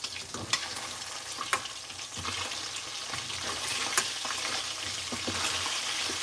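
Seasoned food fries steadily in a pan, a continuous close sizzle with scattered sharp pops and crackles and occasional stirring scrapes, no voices present.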